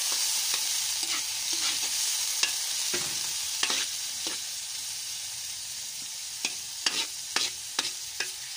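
Rice noodles (bihon) stirred in a wok with a short ladle: steady frying hiss under a scatter of irregular metallic scrapes and clinks, several bunched close together near the end.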